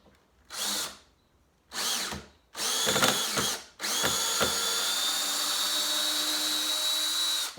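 Power drill driving screws into a saw table: several short whirring bursts, then a longer sustained spin that bogs as the screw seats, loud and close with no talking.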